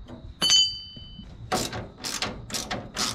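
Ratchet on bolts during work on a Nissan 240SX radiator support: a brief ratcheting burst early on, then several clustered rasping bursts of clicking close by, with no talk.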